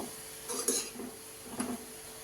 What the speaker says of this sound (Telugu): ఇప్పుడైతే బెల్లం కట్ చేస్తున్నాను